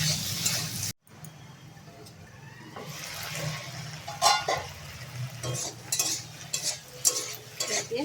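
Rohu fish curry with potato and taro is stirred in a pot after salt goes in. Soft scraping and clinking strokes and wet bubbling follow a brief silent gap near the start.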